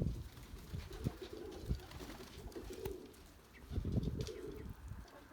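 Crested feather-footed pigeons coo in soft, low repeated rolls, with some rustling and faint chirps around them outdoors.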